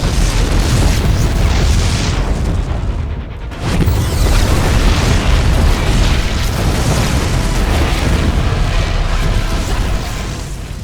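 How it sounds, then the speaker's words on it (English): Loud, continuous rumbling explosions and booms fill a StarCraft 2: Heart of the Swarm cinematic aboard a ship, dipping briefly before surging again into a dense roar. "The explosions have stopped."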